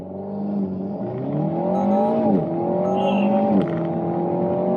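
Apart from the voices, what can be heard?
Alpine A110S accelerating, Getrag 7-speed shifting gears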